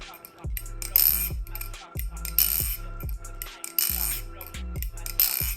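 Rapid metallic clicking and clacking in quick bursts, like a balisong knife being flipped open and shut repeatedly, close and crisp.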